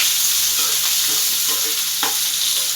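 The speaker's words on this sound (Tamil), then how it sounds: "இப்போ ஆனியனை வதக்கிட்டு இருக்காங்க." Onion sautéed in a pan after garlic for tomato thokku, a constant hissing sizzle with light scattered stirring clinks and one sharper scrape, close and steady, no voices.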